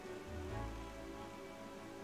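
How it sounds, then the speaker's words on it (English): Rain pours down in The Legend of Zelda: Wind Waker HD, a steady, even hiss of falling water over low, sustained game tones throughout. "It just started like raining all of a sudden here."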